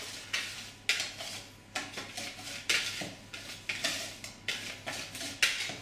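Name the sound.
whisking clafoutis batter with almond powder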